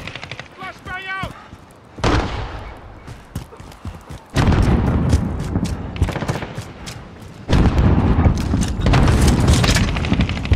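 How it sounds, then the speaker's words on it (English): A flashbang grenade goes off in Call of Duty: Modern Warfare amid loud, sustained gunfire, with heavy booming blasts and rapid shooting filling most of the stretch, close and intense. "Flash bang out!"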